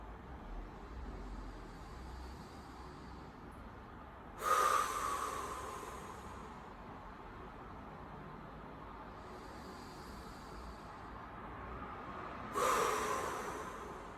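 Deep breathing during a core-stability workout: two loud breaths about eight seconds apart, each a short rush of air, over a steady low background hiss with no talk.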